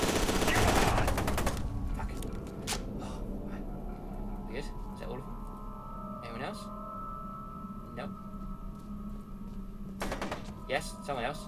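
Gunfire in the video game F.E.A.R. 2: rapid, sharp shots crack out in scattered bursts across the clip over a steady low game rumble, with a voice speaking now and then.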